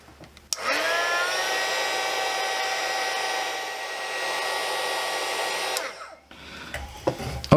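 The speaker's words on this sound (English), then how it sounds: "We'll just slide some shrink on and heat it on." A heat gun blows a steady, loud whirring hiss while shrinking heat-shrink tubing over a wire crimp on a 230V transformer hookup, running about six seconds before cutting off.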